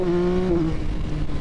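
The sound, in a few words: Yamaha XSR900 motorcycle engine at full throttle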